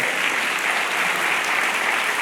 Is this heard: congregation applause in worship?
yes